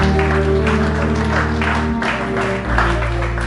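Church congregation applauding and cheering during a French-language sermon by a pastor, a steady broad wash of clapping and crowd noise over a sustained musical drone throughout.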